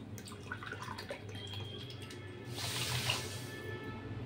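Water poured from a tap into a pan with sugar to make syrup, a soft splashing stream that swells louder toward the end, heard alone.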